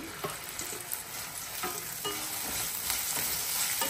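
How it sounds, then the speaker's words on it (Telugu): Okra is frying in hot oil, producing a dense, continuous close-up sizzle. Repeated scraping taps of a stirring spoon sound against the pan, with no voices. "ఆయిల్ హీట్ అయింది ప్రకాష్. ఇప్పుడు బెండకాయలు వేద్దాం"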